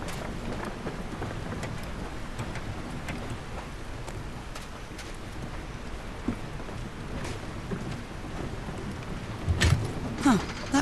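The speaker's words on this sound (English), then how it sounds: "These levers connect those gears to direct the wheel's energy into the turbine." Gears and a turbine mechanism turning in Call of the Sea, a continuous low mechanical rumble with soft creaks and ratcheting clicks, ending in a few louder clunks near the close.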